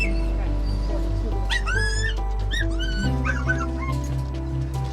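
Rescued pit bull dogs at an intake of 38 dogs, yipping, whimpering and whining in high wavering cries over a constant low hum, with background voices throughout.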